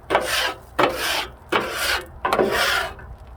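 Metal spatula scraping across a flat-top griddle while working Hawaiian chicken fried rice toward the center, four long rasping strokes in steady rhythm, close and clear with no talk.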